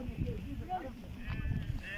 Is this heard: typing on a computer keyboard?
no